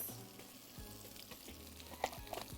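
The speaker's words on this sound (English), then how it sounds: "Onions cooking." Onions frying in hot oil for potatoes Lyonnaise, a soft steady sizzle with low crackle and a few brighter pops near the end, no voices.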